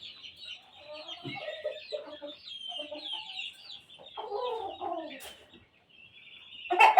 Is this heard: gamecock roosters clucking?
yes